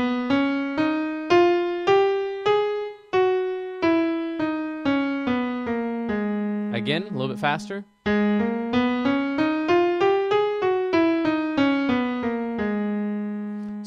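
A single melodic instrument plays a scale note by note, climbing and then descending with a brief flourish between the two passes, clear and close. A voice speaks briefly partway through.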